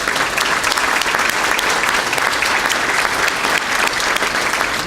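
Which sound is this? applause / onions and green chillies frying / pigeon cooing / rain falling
applause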